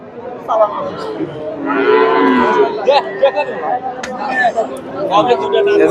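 Friesian cows and calves lowing amid a busy crowd at Chandaikona cattle market in Sirajganj, Bangladesh, several moos rising over steady chatter and background voices.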